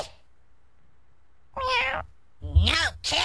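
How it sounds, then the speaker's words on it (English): A house cat meows in three loud, close, drawn-out cries separated by short pauses, the last two coming almost back to back. "No, Kitty, you can't have any. No, Kitty, this is my pie"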